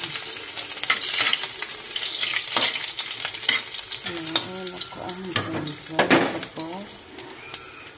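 Ginger, garlic and onions sautéing in a pan for pumpkin soup, with a steady close sizzle and repeated sharp utensil scrapes and clinks; a voice talks over it at times.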